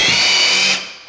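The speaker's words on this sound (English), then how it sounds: "I'm just gonna pre-drill a hole" A power drill whines loudly and steadily, pre-drilling a hole into steel during a tiny home build, a close high-pitched run that stops abruptly and leaves silence.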